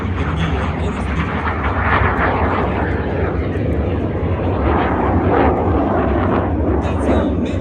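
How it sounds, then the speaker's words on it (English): An aerobatic airplane at the California Capital Airshow flies low with gear down in landing configuration, its engine a loud, steady, continuous roar throughout. "Aerobatics, gear down and a landing configuration, but no intention for him to land."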